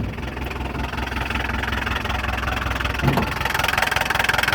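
A diesel car engine idles steadily with the hood open, a close, loud, rattly clatter with an even knocking pulse throughout and no talk over it.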